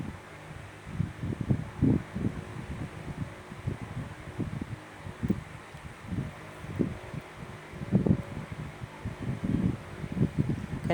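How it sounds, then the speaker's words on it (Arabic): Wind gusting across a home balcony in hot weather, pushing against a curtain, heard as uneven low rumbling buffets that swell and fade in bursts, close to the microphone with no voices. "بص بص الهوا."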